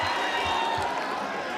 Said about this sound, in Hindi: जोरदार तालियों से नासिर सिद्दीकी साहब का इस्तकबाल करें